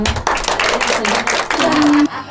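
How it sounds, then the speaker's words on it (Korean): At the opening of a janggu drumming studio branch, a small group claps in short, uneven bursts nearby, with voices talking over the hands and a brief tone near the end. "박수 한번 부탁드리겠습니다"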